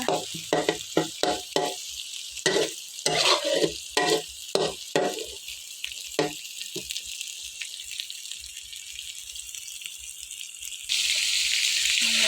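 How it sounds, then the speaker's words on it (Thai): Pork being stir-fried with curry paste in a pan for a bamboo shoot curry, with clattering stirring strokes in the first half, then a steady close sizzle and a louder hiss toward the end. "ใส่แล้วเราก็ผัดหมูกับพริกแกงให้เข้ากันนะคะ"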